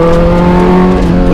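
A human voice imitating the revving engine of a big motorcycle, a loud, close, sustained droning hum with steady pitch that rises slightly at the end.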